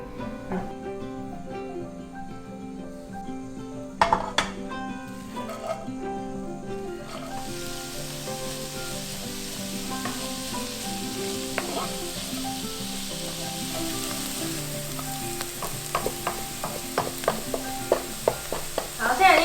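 Cabbage stir-fried in a pan until golden brown, a steady close sizzle throughout with scattered sharp spatula scrapes and taps, busiest near the end.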